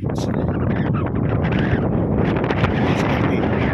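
Strong, steady wind buffets the microphone in a continuous low roar, with gusts rising and falling throughout and no break.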